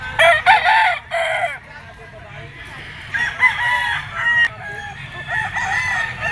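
Kelso gamecock roosters of elevator and sweater bloodlines crow repeatedly at a rooster farm, loud nearby crows with harmonic calls overlapping, some clucking and faint background voices between.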